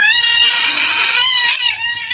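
A frightened cat yowls close and loud at a cat-shaped cake, one long strained wail that wavers and dips near its end.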